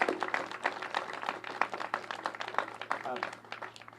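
An audience at a Connecticut Democrats gathering applauds for former comptroller Kevin Lembo, a crowd clapping in a brisk, busy patter throughout, with some voices mixed in.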